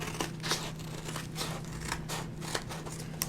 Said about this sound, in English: So I'm just going to take my scissors